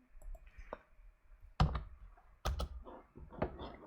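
A few distinct, close keystrokes on a computer keyboard entering a response in a virtual machine console, spaced clicks against a quiet room hum.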